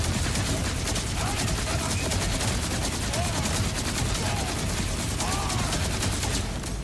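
Rapid SMG fire in Borderlands 4, a dense continuous stream of shots with game effects and impact sounds layered over it, loud and steady throughout.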